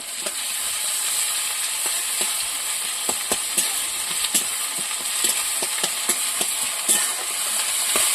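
Sliced onions with garlic paste sizzle steadily in hot oil in a pan, a continuous bright frying hiss broken by frequent soft scraping stirs, close and moderately loud with no talking.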